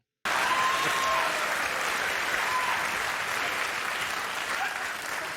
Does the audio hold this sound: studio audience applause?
yes